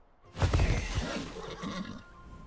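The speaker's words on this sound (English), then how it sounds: "Why did it make a horse sound when I respawned?" A horse neighs in the video game Atlas on player respawn, a single loud whinny that starts abruptly, peaks quickly and fades out over about two seconds, heard alone.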